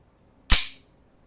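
A single sharp dry-fire click comes from the trigger pull of an unloaded Taurus PT609 PRO 9mm pistol, close and crisp, with near silence before and after.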